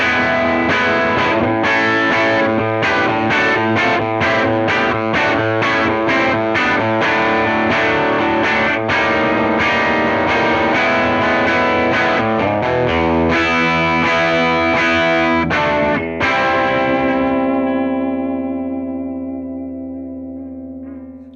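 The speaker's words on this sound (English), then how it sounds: "So mid on 10, this should get you a little bit more of an aggressive growl." An electric guitar played through a Showtime '64 valve amp plugin on the Overdrive Honk preset with the mid control at 10, giving a mid-forward, distorted growl. Busy riffing and chords run continuously with echo and reverb, ending on a long sustained chord that fades out.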